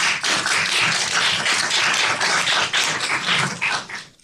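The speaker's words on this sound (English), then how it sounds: "applauding them for all the work that they've done" A seminar audience gives sustained applause for the organizers, steady dense clapping from many hands lasting several seconds before tapering off at the end.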